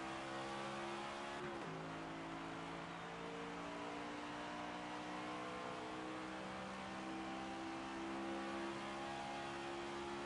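Steady engine drone of a NASCAR superspeedway stock car in the NASCAR 25 video game, held at high revs with layered harmonic whine, loud and continuous with a brief pitch dip near the start and no talk.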